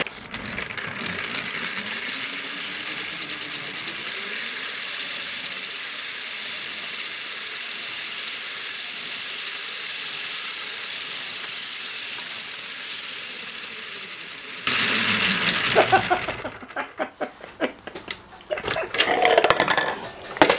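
A hand-crank axial flux generator spins up through a planetary gear set, making a steady whirring mechanical drone with a ratcheting gear texture. Louder, rougher cranking and clatter take over near the end.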